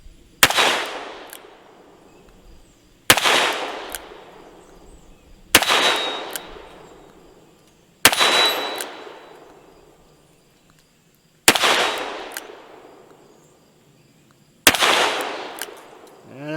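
A Ruger GP100 revolver fires light-loaded .357 Magnum rounds at steel targets outdoors, six sharp, loud reports spaced roughly two to three seconds apart, each followed by a decaying ring and echo.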